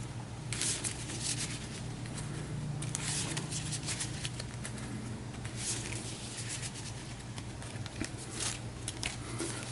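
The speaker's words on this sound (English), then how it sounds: "So we'll give them a quick shuffle" A deck of game cards shuffled up close, a dense, steady rustling riffle running continuously for nearly ten seconds with no talk.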